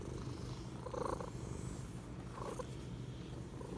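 Domestic cat purring close up in a steady, low rumbling rhythm, with faint cyclic swells as it breathes in and out and no talk over it.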